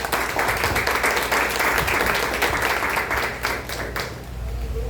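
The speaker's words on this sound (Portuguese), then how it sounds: "Vamos aplaudir a Deus pela vida das irmãs." A church congregation applauds during a service honoring women, a steady wash of many hands clapping at moderate volume, fading out at the end.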